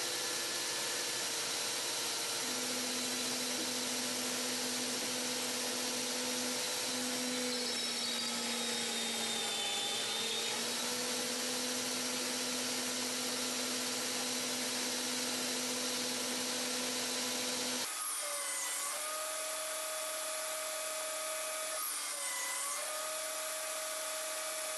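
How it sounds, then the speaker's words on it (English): A homemade pocket hole machine drills pocket holes in wood, giving a steady high motor whine that runs for about fifteen seconds, then shifts pitch and rises as the bit works through the board. "the pocket hole machine provides a very cleanly drilled pocket hole"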